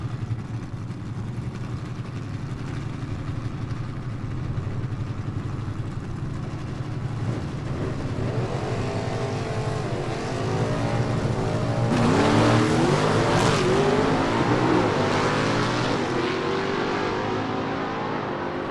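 A 1956 Chevy gasser drag car at a Southeast Gassers Association event idles with a loping rumble, then revs and accelerates hard, the engine note rising loud and close before easing off.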